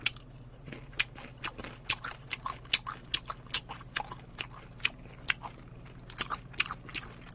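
Crunchy bites and chewing of crispy black sesame fried chicken with honey flavour from Nene Chicken, close and steady, a quick run of sharp crackling bites repeating every fraction of a second with no talking.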